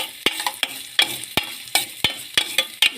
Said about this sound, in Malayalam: കറിവേപ്പില ഇട്ട് കൊടുത്തിട്ട് നമുക്ക് നന്നായിട്ട് ഇളക്കി കൊടുക്കാം.